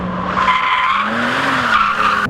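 A Porsche 911 GT2 RS drifts, its tires screeching in a loud, sustained skid under the engine's drone before the sound cuts off sharply.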